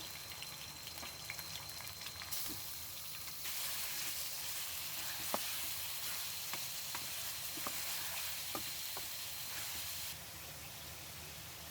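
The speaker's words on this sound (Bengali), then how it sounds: "মাংসগুলো একটু তেলে ভালো করে আমি কষাই ফেলবো" Pieces of meat fry in hot oil in a home kitchen, a steady sizzling hiss with faint scattered pops and stirring clicks, continuous and close with no voices.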